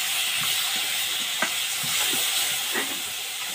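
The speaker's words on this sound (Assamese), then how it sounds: "এইখিনি দি ভালদৰে মজি যোৱালৈকে লাৰি থাকিব লাগিব।" Food frying in a pan for a home-cooked fish dish, with a steady hiss of sizzling oil broken by repeated scraping stirring strokes throughout.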